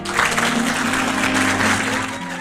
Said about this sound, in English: Wonder Woman strolls into her company's lobby to her entire staff clapping for her